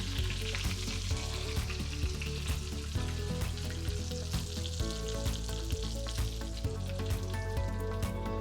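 Chicken fried steaks frying in a pan of hot oil, a dense, continuous crackling sizzle, loud and close, with occasional sharper pops and no talking.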